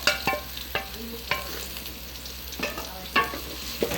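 Fish cooking on a stove sizzles quietly in the background while a few sharp utensil clinks and taps ring out at irregular intervals, with no one talking.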